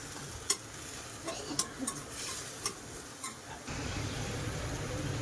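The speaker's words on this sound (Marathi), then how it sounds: "टोमॅटो पण चांगला परतून घेऊया" Tomatoes sautéing in a pan for hotel-style dal khichdi, a low sizzle with sporadic clicking taps of a spoon stirring, the frying growing louder and fuller near the end, no speech.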